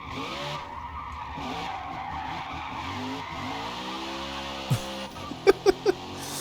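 A NASCAR stock car sliding sideways on a Japanese mountain touge road, tires skidding and squealing under a steady engine drone, followed by a few short sharp bursts near the end.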